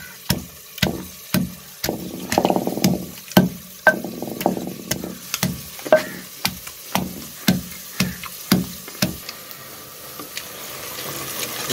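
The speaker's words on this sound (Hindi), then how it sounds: "ये कभी प्याज हमारा ब्राउन हो रहा है, पक रहा है" Onions frying and browning in a pan, a soft sizzle under a steady series of sharp stirring clacks of a utensil against the pan, about one per second, close and moderately quiet, with no talk.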